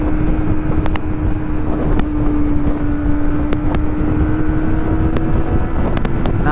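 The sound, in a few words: Kawasaki ZX25R motorcycle engine while riding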